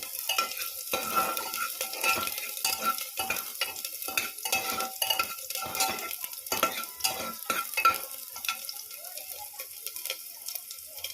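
Onion pieces fry in hot ghee in a pan, with repeated clinks and scrapes of a stirring spoon over a faint sizzle, close and fairly quiet.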